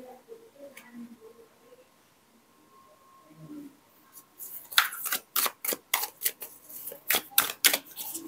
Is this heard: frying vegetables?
no